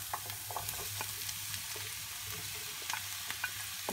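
Peppers and onions frying together in a pan give a steady sizzle with scattered sharp crackles and pops, close and even throughout, with no talking.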